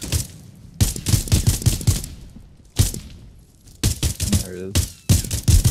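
Gunfire in the pre-alpha shooter Direct Contact, set in Afghanistan: several loud bursts of rapid shots in clusters with brief pauses between them, and a player talking over part of it.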